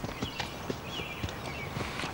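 A horse's hooves clip-clop at an even walking pace, a run of sharp knocks on hard ground set against a quiet outdoor background with no talking.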